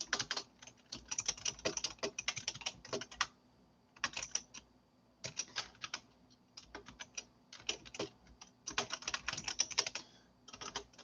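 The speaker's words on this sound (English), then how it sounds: "I'm typing out the plan." Computer keyboard typing in quick bursts of close, crisp key clicks, separated by short pauses of near silence, with no talk.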